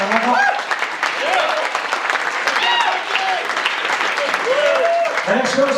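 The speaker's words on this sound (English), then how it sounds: "Put your hands together for your best man, everybody" Wedding guests at a reception applaud loudly for the best man, a dense continuous wash of clapping with cheers and voices calling out over it.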